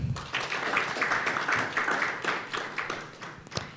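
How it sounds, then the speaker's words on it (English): Audience applause at an event on democracy and digital innovation, a moderate round of clapping with distinct individual claps audible, rising and falling over a few seconds. "Another round of applause."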